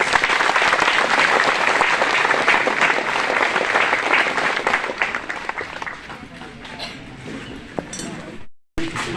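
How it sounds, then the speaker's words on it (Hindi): A crowd at a Jharkhand minority commission gathering gives a loud round of welcoming applause, sustained, dense clapping that gradually thins, then briefly cuts out and resumes near the end. "आइए हम स्वागत के रूप में एक बार जोरदार ताली बजाएं।"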